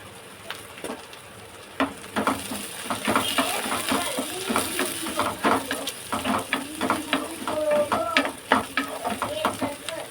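Fresh curry leaves hit hot oil for a squid gravy, giving a dense, close sizzle and crackle with repeated stirring scrapes throughout, steady and fairly loud, no talk.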